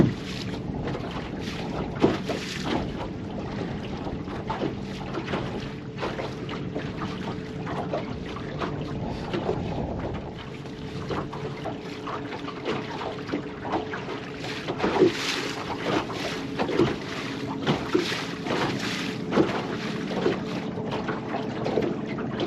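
Strong wind of 15 to 20 miles an hour blows across Lake Seminole during a bass fishing tournament, a loud, constant rushing buffet on the microphone mixed with water sloshing against a boat throughout.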